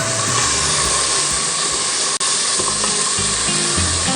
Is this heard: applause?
no